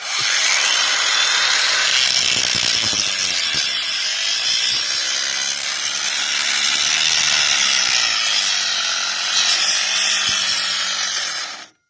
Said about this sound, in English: we can run a grinder with solar power, just direct. So I'm going to take and just grind on here and show you.